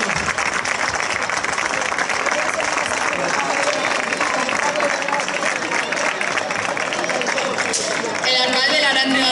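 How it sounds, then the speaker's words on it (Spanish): Crowd at a town festival stage presentation applauding in a sustained, dense wash of clapping with background crowd babble, growing brighter toward the end. "Un aplauso."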